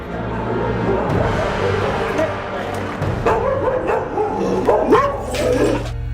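Several dogs bark and yip continuously in a crowded animal shelter, with loud overlapping barks and occasional whimpers filling the space, close by and persistent throughout.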